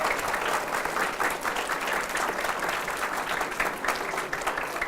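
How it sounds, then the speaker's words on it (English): A room of people applauds the school staff and teachers at an Albuquerque city news conference, a steady, dense patter of clapping hands that holds evenly throughout without any talk. "Let's give them a round of applause."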